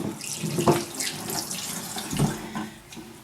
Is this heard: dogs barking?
no